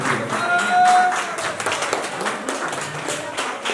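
Applause from an audience at a handover ceremony for a temple, assembly hall and secretariat, a steady patter of many hands clapping, moderately close, with a brief tonal whistle or ring near the start.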